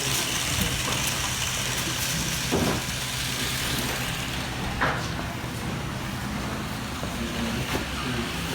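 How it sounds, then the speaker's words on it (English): Märklin model steam locomotive rolling past on a model railroad layout, a continuous close rumbling and rattling of wheels on track at fairly loud level with a few small clicks. "Here comes the steam engine."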